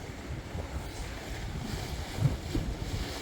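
Low, rumbling wind buffets the microphone outdoors on a cold coast at Silloth while fishing, gusting unevenly with a slightly stronger surge near the end.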